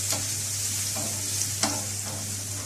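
Two garlic cloves dropped into a hot pan, giving a bright steady sizzle close by, with a couple of sharp spatula clicks and a low constant hum underneath, no voices.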